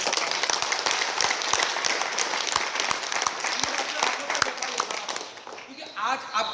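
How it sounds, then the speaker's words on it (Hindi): Audience applause rings out for Mr. Avdhesh Kumar at a business gathering, a dense, steady crowd clapping that fades near the end as a voice starts to speak. "मैं चाहूंगा उनके लिए एक बार जोरदार तालियां।"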